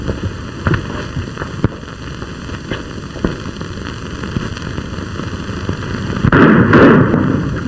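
Gunfire in a 1950 film shootout: scattered sharp cracks and pops ring out at irregular intervals over steady background hiss, ending in a denser, louder burst.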